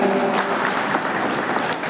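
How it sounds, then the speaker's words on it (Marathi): Dense, steady applause from a seated audience at a cultural function honouring a guest trainer in a village, filling the clip evenly without a break and without speech on top. "जोरदार टाळ्या वाजवूया"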